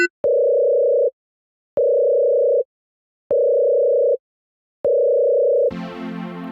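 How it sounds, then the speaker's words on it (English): A telephone dial tone during dialing: four loud, steady tone bursts with even pauses between them, then a burst of busier tonal sound at the end. "I'm dialing."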